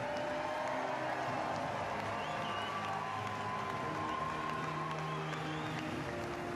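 A crowd applauds a medalist at the STIHL Timbersports Individual World Championship 2024, a steady wash of clapping and murmur sustained at moderate distance throughout.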